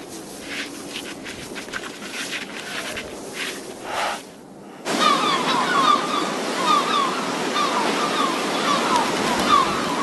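Sea waves near beaches along the Spanish coast, with broad washing surf noise that swells and breaks, cutting to a steadier rush with cries of gulls scattered over it.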